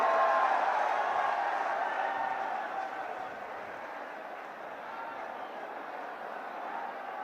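Crowd at a Rahul Gandhi political rally in Mewat applauding, a steady wash of clapping and crowd noise heard from a distance, slightly louder at the start and then settling.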